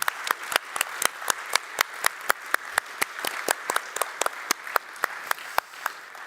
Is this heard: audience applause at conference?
yes